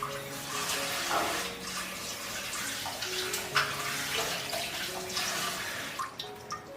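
Shiitake mushrooms rinsed under running tap water: a continuous close gush and splatter with irregular sloshing and dripping as the caps are turned in the stream, with no speech.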